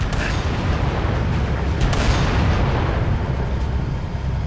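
Anti-aircraft guns pound away in Halo: Reach, a dense, continuous barrage of loud booming fire that stays steady throughout with no gaps and no talk.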